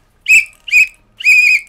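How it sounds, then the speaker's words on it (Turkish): A green plastic whistle is blown three times, short shrill blasts with the last one longer, loud and close, alone without talking. "Yeşil bir düdük."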